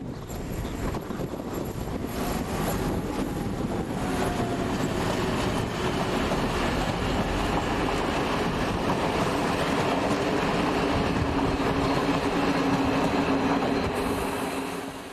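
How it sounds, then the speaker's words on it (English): A Russian-built Class M62 diesel locomotive, a 115-ton engine, rolls in with a train and a generator van behind it, a loud sustained rumble and rail noise that stays close and steady, with no one speaking. "This M62 arrives with a train from Paich."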